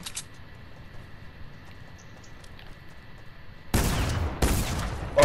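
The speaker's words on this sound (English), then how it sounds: "I'm getting shot at, Junior!" Video-game gunfire during the Travis Scott event: a faint, quiet stretch gives way near the end to two loud, close bursts of rapid shots.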